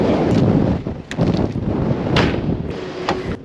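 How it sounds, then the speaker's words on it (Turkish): Strong wind buffets the microphone at a petrol station in continuous low rumbling gusts, with brief sharper bursts, loud and close throughout. "acayip bir rüzgar var. Öyle böyle değil."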